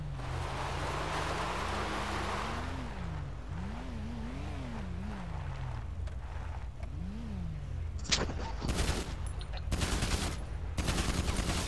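Sharp video-game gunshots fired at another player arrive in a quick run of loud cracks near the end, after a stretch of engine drone and game ambience.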